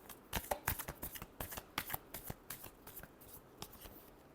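Tarot cards are shuffled by hand in a quick run of crisp riffling flicks and slaps, close and fairly quiet, with no talk over them.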